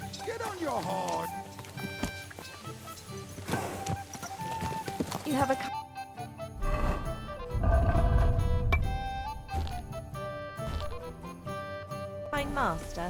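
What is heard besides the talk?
horse galloping in video game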